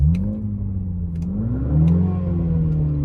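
A 2024 MINI Clubman John Cooper Works engine revs up in sport mode with a throaty exhaust note, its pitch rising and falling under steady acceleration, loud and close throughout.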